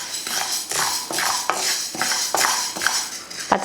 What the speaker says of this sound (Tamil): முதல்ல பச்சைப்பயிறு வந்து வறுத்துக்கலாம்.